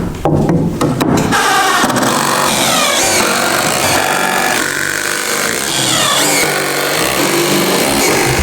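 A power drill drives screws into new wall framing while a living room is rebuilt, giving a loud, close whirring that rises and falls in short bursts with clattering in between.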